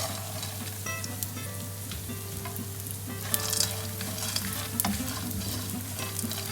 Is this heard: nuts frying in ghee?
yes